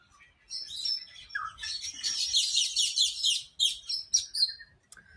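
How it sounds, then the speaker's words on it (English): Kookaburras at a wildlife park call in a loud, raucous chorus of rapid chattering and cackling that builds and keeps going, with no one talking. "Do you hear the kookaburras?"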